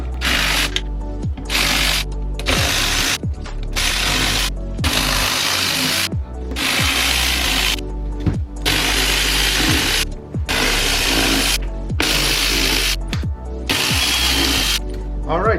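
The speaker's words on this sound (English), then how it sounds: "So I have my T25 right here, and we're going to remove them out." A power tool with a T25 bit backs screws out of a K&N drop-in filter housing on a Mercedes CLS 550, giving repeated loud ratcheting whirs in bursts separated by short pauses, close up.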